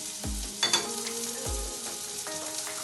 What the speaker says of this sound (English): want to brown the onions.